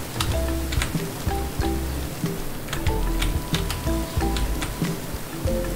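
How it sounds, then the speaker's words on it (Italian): Steady rain patters down in Minecraft, a dense wash of drops with scattered ticking hits and low tones from the game's music and sounds underneath, continuous and fairly close throughout. "Qua piove"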